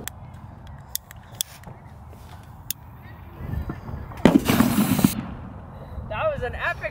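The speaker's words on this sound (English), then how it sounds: "Let's go blast the fireworks." Fireworks set off outdoors give several sharp single bangs, then a louder burst of crackling blasts, with voices and background noise between them.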